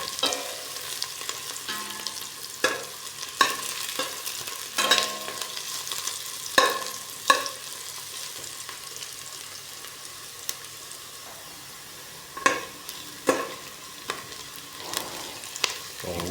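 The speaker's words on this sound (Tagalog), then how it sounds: "Ilagay na rin natin guys yung bawang. Haluin mo natin guys para" Garlic sautéing in a frying pan with a steady, soft sizzle, broken by irregular scraping and clinking as the pieces are stirred.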